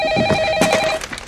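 A telephone ringing in the Christmas comedy Elf, a short electronic ring with a sustained tone that cuts off abruptly, loud and close with no speech.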